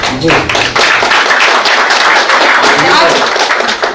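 Audience applause at a Hindi poetry and music recital, a dense, steady wash of many hands clapping that runs loud and continuous for the whole stretch.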